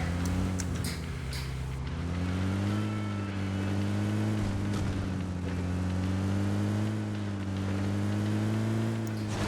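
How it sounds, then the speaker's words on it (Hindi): A car engine in PUBG Mobile drones steadily and loudly, holding a low, constant hum with slight shifts in pitch as the vehicle drives on, and no voice over it. "फिर मैं गाड़ी में बैठता हूँ और यहाँ से निकल जाता हूँ।"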